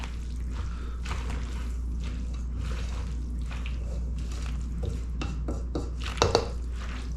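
Pasta salad is stirred with dressing in a bowl, a steady wet squishing and scraping near and close, ending with a couple of louder clinks of the utensil against the dish.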